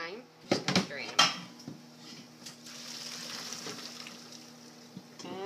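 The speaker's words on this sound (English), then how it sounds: "Just going to drain them." Cooked black beans from a pressure cooker draining, with a few clattering knocks of pot and utensils early on, then a steady soft watery rush and trickle.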